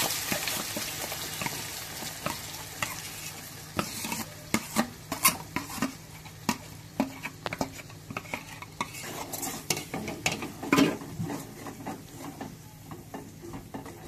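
Ground masala paste with garlic and mustard seeds fries in oil for a fish curry, a steady sizzle broken by repeated scraping and clinking stirs of a spoon against the pan, close and without talk.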